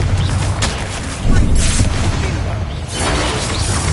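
Confringo spell blasts in Hogwarts Legacy, loud booming crackling bursts layered with shattering debris, rolling one into another over dense game noise with no pause.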